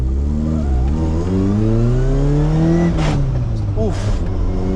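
A Toyota AE86 engine climbs through its revs on a back road, loud and close from inside the car, with a shift and a rough second gear as it pulls again.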